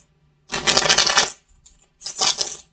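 Tarot cards being shuffled in two brisk riffling bursts, the first longer and the second shorter after a brief pause, close and crisp with no voices over them.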